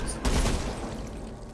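Gunfire from a SCAR rifle in the video game Back 4 Blood, a quick burst of shots that booms briefly and then fades into a rumbling tail.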